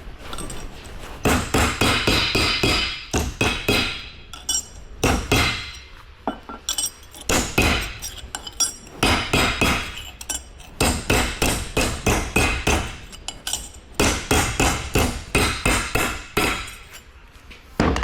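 Hammer striking metal being flattened for Bobcat axle holes, bursts of sharp ringing blows in quick rapid clusters separated by short pauses, loud and close with no talk.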